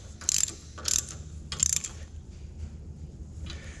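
A ratchet wrench tightens bolts on a heavy-duty truck mud flap bracket in three quick bursts of close, sharp clicking, then a fainter fourth burst, with low hum in between and no speech.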